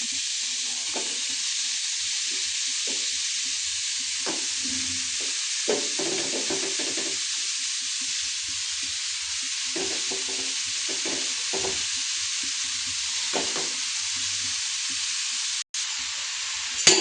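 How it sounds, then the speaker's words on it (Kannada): Grated carrot for gajar halwa sizzles steadily in a pan while a spoon stirs it, bringing intermittent scraping and soft clinks over the constant hiss, with a sharp knock near the end. "ಎಲ್ಲ ಹಾಕಿ ಚಮಚೆಯಿಂದ ಇದು ತಿರುಗಿಸ್ತಾನೆ ಇರಬೇಕು"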